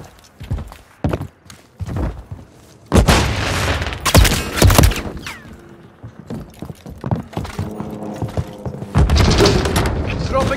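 Gunfire in the video game Call of Duty: scattered shots and booming thuds, sparse at first and then heavier volleys in the middle and near the end, with game voices heard between them.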